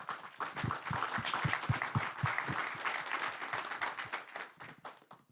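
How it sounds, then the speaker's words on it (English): Audience applause at a community arts summit, steady crowd clapping with distinct individual claps standing out early, sustaining for several seconds before thinning out toward the end. "So if we can give them a round of applause."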